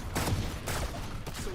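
Gunfire in the tactical shooter Valorant, with rapid bursts of shots that come in several separate clusters across the moment, fairly loud and with no talk over them.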